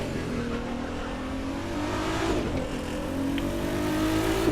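Car engine accelerating in The Crew 2 racing game, a steady smooth whine with a faintly electric tone, rising in pitch as it picks up speed, continuous and moderately loud with no voices over it.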